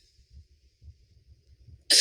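A single sharp cough bursts out loudly at the very end, after quiet low rumbling and soft breathing noises during an online presentation.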